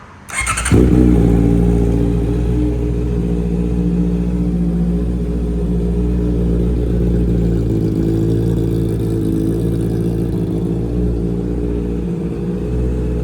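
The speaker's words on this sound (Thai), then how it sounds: "เดี๋ยวฟังคลิปสตาร์ทกันนะครับ" A 2020 Honda CBR650R with a loud aftermarket AR exhaust cranks and fires, then settles into a deep, steady, rumbling idle held close up for over ten seconds with no talking.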